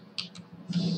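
A few light computer mouse clicks, close and quiet, spaced apart over a faint background hum.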